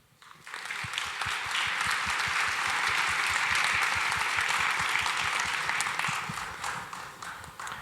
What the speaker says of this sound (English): let's give a round of applause again for Senad